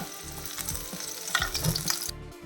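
Small onions and ginger sauté in oil with a crackling, bubbling sizzle, close and fairly steady, with slight swells as the pan is stirred, ending a little quieter.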